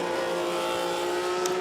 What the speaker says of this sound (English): Here's Andy Willis with the Ferrari flat 12 engine,